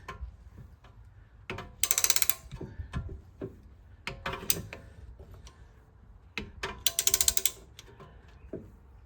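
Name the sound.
ratcheting caliper piston retractor tool on Volvo XC90 brake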